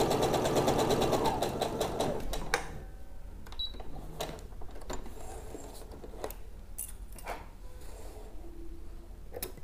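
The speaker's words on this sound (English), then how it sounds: "now that I've pinned them up, I'm going to sew, and I usually start sewing my darts from the legs, not from the tip" A domestic sewing machine stitches a Dior dart on a fit-and-flare dress, running in a steady rapid whir for about two seconds, then stopping, followed by quiet handling clicks and light fabric rustles.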